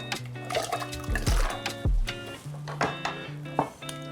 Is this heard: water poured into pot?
yes